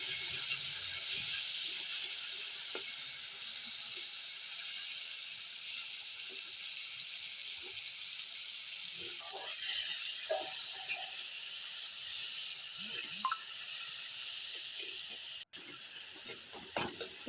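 Tomatoes and dried chilies fry in hot oil in a pan, a faint steady sizzle with occasional soft clicks and scrapes of stirring, quiet and close.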